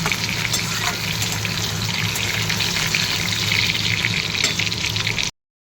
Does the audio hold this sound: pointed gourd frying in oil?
yes